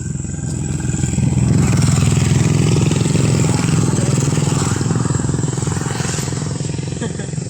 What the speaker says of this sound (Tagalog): Daming motor guys no.